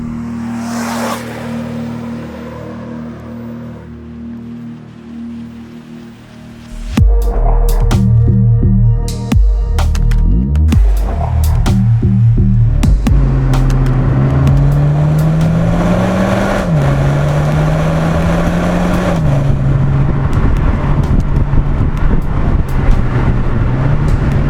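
A BMW 128Ti hatchback starts quiet, then its engine bursts into loud acceleration with rising revs and gear shifts, the drone climbing and dropping in steps as it drives hard, close and dominant throughout.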